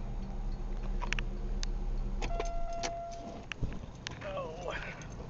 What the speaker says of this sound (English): So there's our final automotive cold start for the day.